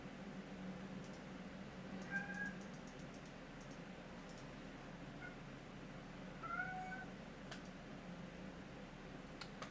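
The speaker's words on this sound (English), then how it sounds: "bye to the kitty you can hear in the background. They're very vocal" A pet cat meows faintly in the background, two short drawn-out cries several seconds apart, soft under a low steady room hum with occasional faint clicks.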